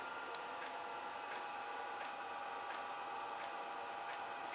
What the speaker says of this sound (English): You can hear the pump in the background perhaps.